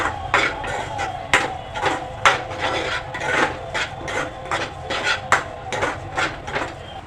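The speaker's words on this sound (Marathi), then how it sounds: "आता शेंगदाणचा कूट घाला आणि मिक्स करा छानपैकी" Crushed peanuts being stirred into a spicy roasted eggplant bharta in a pan, giving repeated scraping, rasping strokes of a spoon against the pan in a steady rhythm, close and clear with no talking.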